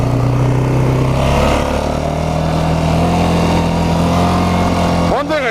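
A Yamaha Grizzly 600 ATV on semi-bald tires roars at full throttle, a loud, close, sustained engine drone that holds steady before a quick rising pitch sweep at the end.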